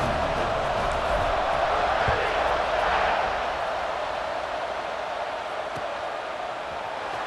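Stadium crowd in a college football video game forms a steady, moderately distant wash of roaring noise, swelling briefly and then settling to a constant murmur.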